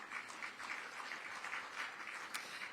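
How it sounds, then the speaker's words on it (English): An outdoor audience at a groundbreaking ceremony claps steadily in a dense, moderately distant wash of applause, with no voices over it. "So also, let's give them a round of applause."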